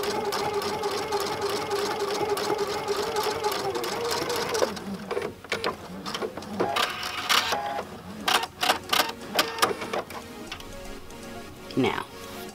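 A domestic sewing machine fitted with a ribbon foot hums in a steady stitching run, then shifts into choppy short bursts and clicks as the sewing stops and starts; a person talks over it.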